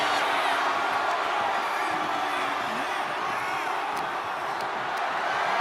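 A wrestling arena crowd roars continuously in WWE 2K25 during a Yokozuna match, a loud, dense wall of cheering that holds steady throughout.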